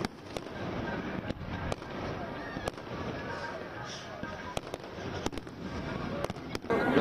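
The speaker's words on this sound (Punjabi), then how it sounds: "ਆਤਿਸ਼ਬਾਜ਼ੀ ਦੇਖੀ ਹੈ ਜੀ" Fireworks burst over the Golden Temple during a celebration of the 550th birth anniversary of Sikhism's founder, sharp bangs popping at irregular intervals above a constant murmur of the crowd and a few nearby voices.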